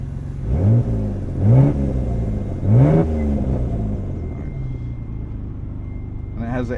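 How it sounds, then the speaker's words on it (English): A 1992 Dodge Stealth R/T engine revs three times in quick succession, each sharp rise in pitch falling back to a steady idle, loud and close. "Do a couple revs for you guys."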